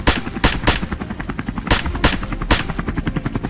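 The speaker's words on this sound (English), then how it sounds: "Gunfire erupted in rapid bursts." Rapid bursts of gunfire ring out from a helicopter hunting wild boars, sharp repeated cracks over a steady rotor thrum, loud and close, with no voices.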